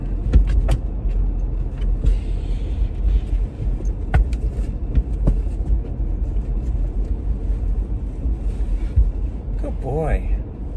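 A car with a St Bernard riding inside cruises along, a steady low road and engine rumble filling the cabin throughout, with a few clicks and a short whirring near the end.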